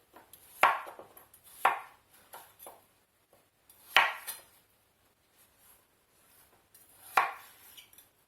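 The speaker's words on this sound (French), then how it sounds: "Je les coupe en gros morceaux." Potatoes cut into large chunks by knife on a board while making a quick courgette and potato soup, giving four sharp, fairly close chops spaced a second or more apart, each trailed by a few lighter knocks, with no talk.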